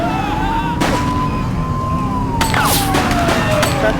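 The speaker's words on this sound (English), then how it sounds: "He's shooting!" Gunfire in the police video game The Precinct, with sharp broadband cracks at irregular intervals over a wailing police siren and steady background noise.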